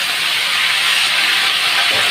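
Potatoes dropped into hot oil in a home kitchen, giving a loud, even frying hiss that holds steady from start to finish.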